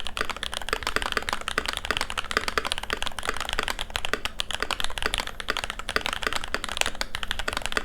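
Fast, continuous typing on a mechanical keyboard with custom-molded switches, dense deep clacking keystrokes close up with a steady rhythm and no speech.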